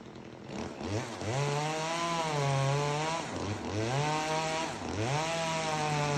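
A chainsaw fells a big tree in a Sierra forest, its engine loud and close, rising and falling in a few long revving surges with no voices over it.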